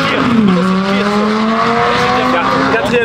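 A McLaren MP4-12C sports car accelerates through a bend at an event in Linselles, its engine note climbing and holding steady across gear changes, loud and close, with people talking over it.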